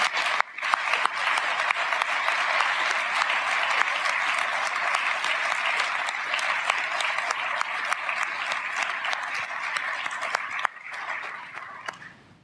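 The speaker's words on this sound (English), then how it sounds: "I'd ask that we have a round of applause for all of them." Sustained applause from the audience at the Michener Awards ceremony at Rideau Hall, a dense, even roar of many hands clapping for over ten seconds before thinning out near the end.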